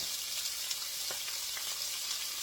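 Shrimp sizzling in a hot pan for Thai drunken noodles, a constant bright crackling hiss with small pops, steady and close throughout, no voices.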